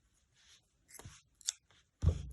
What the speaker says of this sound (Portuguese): Vou cortar esse fio aqui